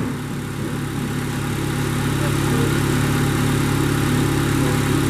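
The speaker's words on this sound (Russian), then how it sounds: "Работа двигателя на холостых оборотах." Up close, the 2.4-litre petrol engine of a 2010 Honda CR-V idles with an even, continuous low hum that holds steady throughout, with no voices.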